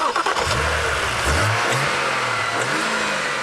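A BMW 128i with a naturally aspirated 3-litre inline-six accelerating hard, its engine note rising in pitch over a few seconds, loud and close, with no talking.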